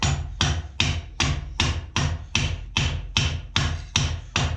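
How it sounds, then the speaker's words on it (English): A ball peen hammer strikes hot metal again and again to forge a nail head shape for a decorative daisy, about ten sharp, ringing, evenly spaced blows close to the microphone, with no talking. "it's just hitting it down with a ball peen hammer, trying to get that nice nail head shape"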